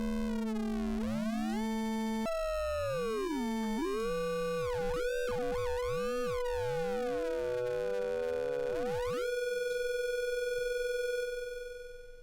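Synthesized amplitude-modulated tone in Max/MSP, a triangle carrier shaped by a rectangular modulator: a steady electronic buzz with sweeping, gliding harmonic partials that bend up and down, then settle into a fixed pitched drone before fading out at the end.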